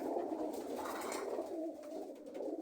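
Pigeons coo in a steady, low murmuring stream, fairly close and continuous throughout, with no voices over them.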